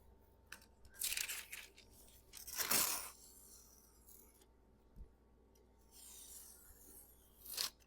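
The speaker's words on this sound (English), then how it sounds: "I'm going to go ahead and cut my paper down to size already." Paper is cut down to size with scissors, several bursts of crisp snipping and tearing rustle, close and fairly quiet, separated by pauses with a faint background hum.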